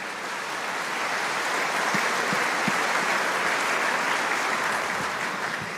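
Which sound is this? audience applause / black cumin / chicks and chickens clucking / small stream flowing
audience applause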